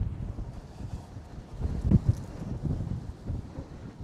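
Gusty, cold wind at Port Canaveral, strong enough to kick up sand, buffets the microphone in low rumbling waves, swelling briefly louder near the middle before settling back.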